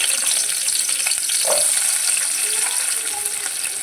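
Onions sizzle in hot oil in a curry pan with a steady, close crackling hiss, a faint stir near the middle, and no speech.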